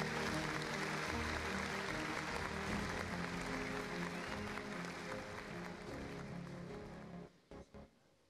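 Conference audience applauding steadily for several seconds, a dense even wash of clapping that fades and stops near the end, leaving a few faint knocks.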